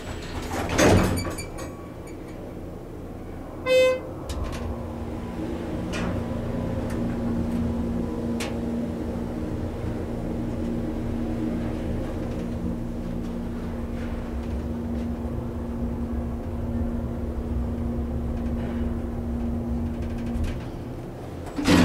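A glass Schindler 330A elevator runs at Dick's Sporting Goods in West County Mall, Des Peres, giving a steady low motor hum throughout, with a couple of door thumps near the start and end.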